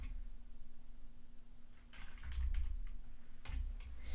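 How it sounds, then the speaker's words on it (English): Typing on a computer keyboard, faint clusters of quick key clicks that grow busier partway through, with a low steady hum underneath and no talking. "we're going to type in staging"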